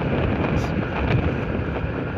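Strong wind buffets the microphone on a bridge over the water between Cebu and the CCLEX crossing, a dense continuous roar with low gusty rumbling and no pauses.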